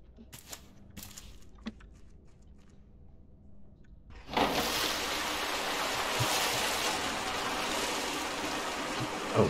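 Water rushing through a water pipe in the game Raft: faint clicks and quiet ambience at first, then a sudden loud, steady gushing flow that continues to the end.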